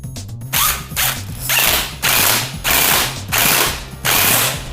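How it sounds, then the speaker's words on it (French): Impact wrench tightening the nut on an MVT ignition rotor of a four-stroke dirt bike engine, firing in five loud, rattling hammering bursts separated by brief pauses. "Mais je conseille fortement la clé à choc."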